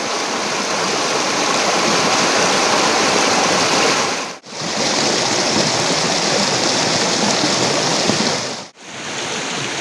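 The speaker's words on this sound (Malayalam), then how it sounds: "വെള്ളം നന്നായി പതഞ്ഞൊഴുകുന്നുണ്ട് കേട്ടോ. വെള്ളത്തിൻ്റെ ആ ശക്തിയും ആ സൗണ്ട് നമുക്ക് കേൾക്കാം." Choriyankunnu waterfall pours in a loud, continuous rush of foaming water heard up close, dense and unbroken apart from two brief near-silent gaps.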